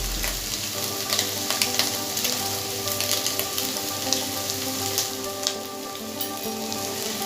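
Scrambled egg bhurji with butter sizzling in a pan while being stirred, a steady hiss punctuated by repeated scraping taps of the spatula, close and clear.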